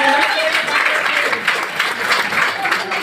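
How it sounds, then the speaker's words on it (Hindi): Audience applause greeting new business members welcomed onto a stage, steady dense clapping throughout with crowd noise and a voice speaking over it. "ताली बज रही है, सब बजाते रहिए"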